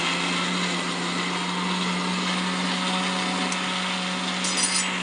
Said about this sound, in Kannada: ಹಾಕ್ಕೊಂಬಿಟ್ಟು ಮಿಕ್ಸಿಗೆ ರುಬ್ಕೊಂಬಿಟ್ಟು